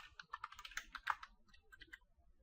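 Close, quiet typing on a computer keyboard, a quick run of light key clicks that thins out toward the end.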